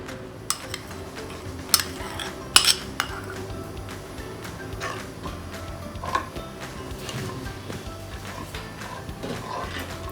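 A metal utensil clinks and scrapes against a pan as ghee melts over low heat in a home kitchen, sparse sharp taps scattered over a quiet, faintly humming background.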